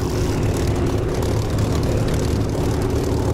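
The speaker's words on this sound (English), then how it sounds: "That's Ghetto blatting around on the Spitfire nicely zooming me." A Spitfire in the DCS flight simulator roars past with a heavy, continuous propeller engine drone, loud and close throughout.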